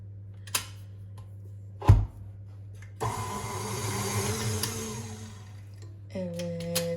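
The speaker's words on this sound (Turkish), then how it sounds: "Şimdi bunun içine e, bir yumurtamı ekliyorum ve tekrardan çırpıyorum" An egg is whisked into cream for oat cookie dough: a few knocks and a thump come first, then a motorized mixer whirs loudly and steadily for about three seconds, pauses, and resumes at a higher whine.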